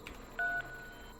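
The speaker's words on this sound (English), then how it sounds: "phone button press, phone dial button sound effect." A single short electronic phone dial button tone from the video game The Beginner's Guide, a clean two-pitch beep at low level, alone.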